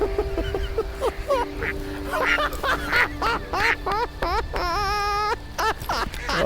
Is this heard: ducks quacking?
yes